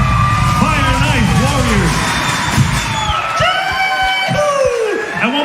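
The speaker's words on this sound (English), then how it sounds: "give a big round of applause, a big fa'aumu for all of these Fire Knife" A large outdoor crowd at a Fire Knife performance event in Hawai'i cheers, whoops and shouts loudly and continuously, with high-pitched yells rising over a dense roar of voices.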